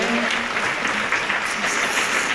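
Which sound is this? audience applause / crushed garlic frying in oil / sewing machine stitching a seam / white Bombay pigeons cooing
audience applause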